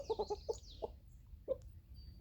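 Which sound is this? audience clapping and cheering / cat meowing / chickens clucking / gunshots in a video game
chickens clucking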